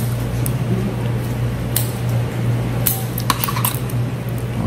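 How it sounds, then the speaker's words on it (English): Scissors cutting through a chicken's pectoral girdle during a dissection, a few sharp crisp snips and clicks spread over a low steady hum, close and moderately loud. "Then let us cut through the pectoral girdle."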